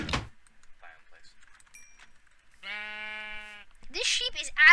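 Sheep in a survival video game lets out a bleat of about a second midway, a clear harmonic cry standing alone between stretches of quiet, with talk and other game sounds at the start and end.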